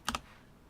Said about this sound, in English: then I just need to type Java